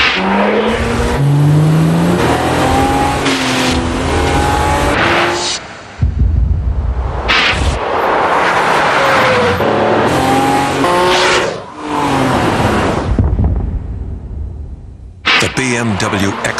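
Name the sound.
BMW X5 car driving in a TV commercial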